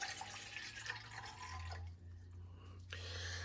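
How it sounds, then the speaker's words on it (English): One cup of room-temperature water pours steadily with a low gurgling tone, pauses briefly, then resumes. "1 cup of room temperature water."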